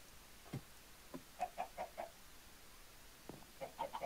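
Chickens cluck in Minecraft, soft bursts of short clucks in small clusters, fairly quiet with pauses between them.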